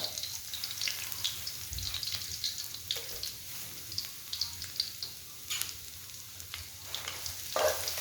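Garlic frying in hot oil in a wok for a Thai stir-fry of liang greens with oyster sauce: a steady, fine crackling sizzle at moderate level, with occasional louder pops and scrapes, no voices.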